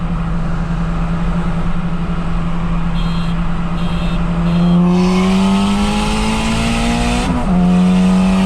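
A BMW 440i and a tuned Honda race side by side from a 60 mph roll, engines droning loudly and rising steadily in pitch, with a quick shift break near the end before the roar climbs again.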